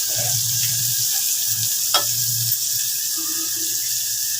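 Green chillies and tomatoes fry in a pan with a strong, steady hiss, joined by a brief scrape and faint background hum.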